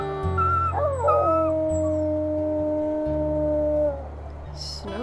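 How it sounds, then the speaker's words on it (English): Wolves in WolfQuest howling in a snowy setting: several long, sustained howls rise and glide down in pitch, layered over a low steady drone, loud and close with a brief noisy burst at the end. "Let's also maybe do a howl."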